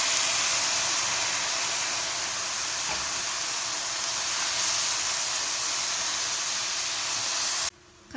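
Chopped tomatoes frying under a lid in a pan with salt and paprika, giving a steady, even hiss that holds unbroken for about eight seconds before cutting off abruptly.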